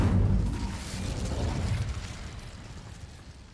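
A fire spell cast in Hogwarts Legacy, a loud fiery burst with a low rumble that peaks at once and then slowly fades over a few seconds, with no talking.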